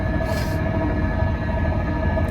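Steady low rumble and hum inside a packed moving train carriage, continuous rolling noise with a faint tonal drone, no speech.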